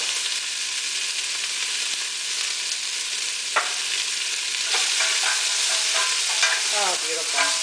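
A high, steady sizzle comes from salted and peppered food frying in a pan on the stovetop, loud and close, with occasional crackles, pops and stirring scrapes and no talking.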